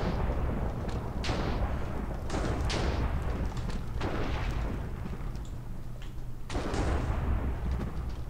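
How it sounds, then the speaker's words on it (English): Fireworks from a Minecraft modpack game crack and boom repeatedly in an irregular series of loud bursts over a dense rumbling bed, with no talking. "Wait till the fireworks are finished"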